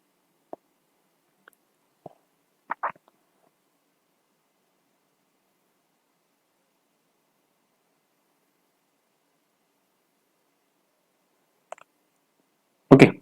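Computer mouse clicks, a few isolated sharp ticks scattered across long quiet stretches, closing with a louder burst of clicking at the end.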